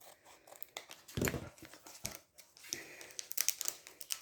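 Scissors snip and tear through gift packaging, with crinkling wrap and sharp cuts close by, in bursts with short pauses, fairly quiet.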